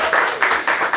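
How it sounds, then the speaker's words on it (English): A small audience clapping for a quiz contestant, a close, fairly loud burst of several hands pattering in quick irregular pulses, with no talking over it. "Clap for her."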